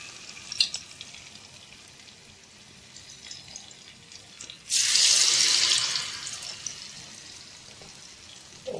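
Cut idli pieces are dropped into hot oil for idli manchurian, setting off a loud, close burst of sizzling that gradually settles. Faint clinks and a quiet kitchen come before it.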